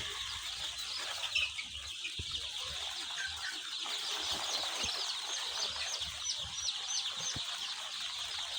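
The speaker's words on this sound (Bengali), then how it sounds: "এই দেখেন আমার সোনালী মুরগি বাচ্চা, এগুলোর বয়স আজ একদিন" Hundreds of one-day-old Sonali classic hybrid chicks in a brooding shed chirp constantly as a dense, high, faint chorus, with no voices.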